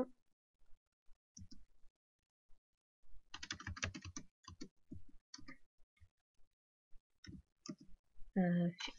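Computer keyboard typing code in scattered bursts of quick close clicks with pauses between, someone speaking quietly over part of it.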